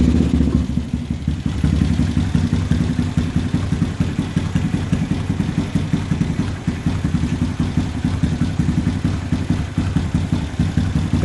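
A 2014 Honda Grom motorcycle engine idles close by with a choppy, uneven putter, catching right after startup and then holding a steady low chug with slight clatter for the rest of the stretch.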